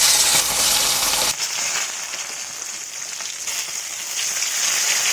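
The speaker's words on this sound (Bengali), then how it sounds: "এর মাছগুলো আমি ভেজে নেব।" Pieces of katla fish fry in hot oil, a loud, steady close-up sizzle with dense crackling spatter that dips briefly and then holds at a constant level throughout.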